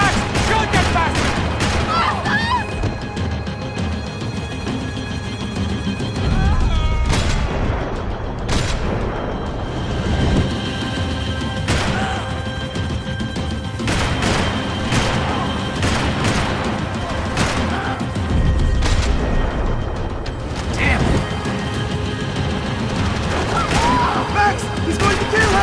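Video game gunfire erupts in repeated booming bursts and scattered shots, loud and close, over steady game noise, with voices talking at times.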